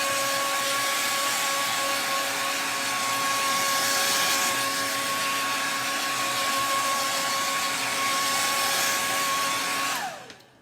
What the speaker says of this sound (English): Let me hit it with the blow dryer one last time.